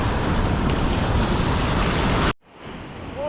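Strong sea water surges at low tide in a loud, dense wash of surf and wind that cuts off abruptly, followed by a quieter stretch of lapping water.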